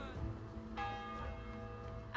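A church bell in the Kingdom Come Deliverance game rings with a rich, sustained metallic tone, a fresh strike blooming about midway and its resonance lingering continuously throughout.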